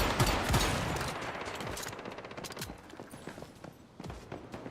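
A modded rapid-fire gun in a video game fires loud, fast bursts of shots in quick succession, strongest at the start, with sharp cracks continuing at a slightly lower level.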